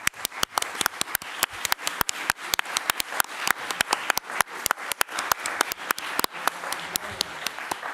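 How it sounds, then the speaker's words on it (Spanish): Steady, sharp applause from a small audience at a press conference for the Spanish series Patria, honoring the cast and composer, individual claps distinct and close for about eight seconds. "Os pido también un fuerte aplauso para todos ellos"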